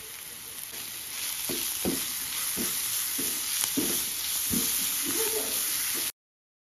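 Ginger, garlic, salt and ground pepper fry in a pan with a steady, bright sizzle, broken by soft scraping knocks as the mixture is stirred, close and continuous with no voices.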